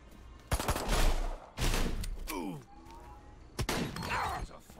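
Loud bursts of gunfire with shattering impacts in the video game Destroy All Humans, arriving in several separate volleys between pauses, with in-game voices speaking in the gaps.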